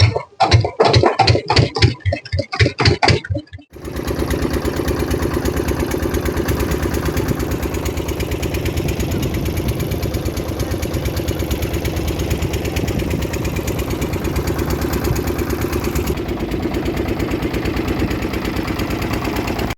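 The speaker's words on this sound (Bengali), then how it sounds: "আর নিশ্চয়ই দেখতে পাচ্ছ এবার এই নৌকা চালু করবে।" A river-crossing boat's engine: a few seconds of rough, pulsing start-up give way to a loud, steady, close drone that runs on without a break.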